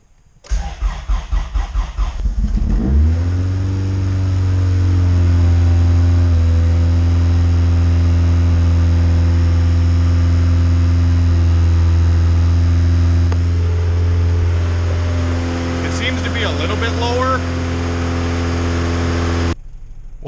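A Honda CRX engine settles into a steady, loud idle right after a cold start in freezing weather, opening with a rapid cranking burst and then holding an even hum close by with no talk.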